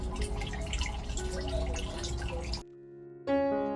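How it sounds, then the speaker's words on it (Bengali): Used water drains out from underneath a caravan in a steady, close splashing gush for about two and a half seconds. It cuts off abruptly, and a brief humming tone follows. "এই জায়গাতে এনেই যে জলটা ইউজ করা জলটা সেটাকে বার করতে হয় নিচে থেকে"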